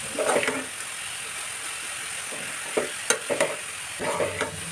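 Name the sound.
sautéing papaya in a pan on medium heat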